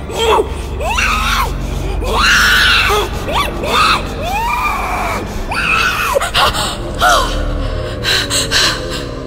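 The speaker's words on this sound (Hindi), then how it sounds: "सोनम चीखते हुए उठी" A woman screams and gasps in a Hindi horror story as she wakes in terror, with a run of loud, ragged cries and sharp breaths close up, voiced one after another.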